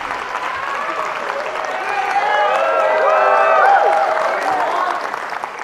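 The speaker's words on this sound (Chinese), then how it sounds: "谢谢各位的掌声鼓励" A studio audience at a crosstalk comedy show breaks into sustained applause and cheering after the act, a dense swell of clapping that builds and then gradually tapers off.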